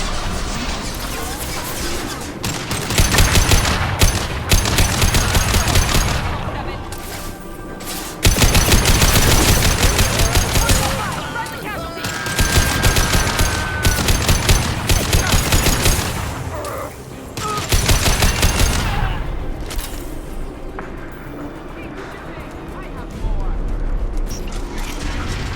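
Gunfire in Mass Effect 2 Legendary Edition, loud and close: dense volleys of rapid shots come in four or five waves, each lasting a few seconds, separated by short lulls.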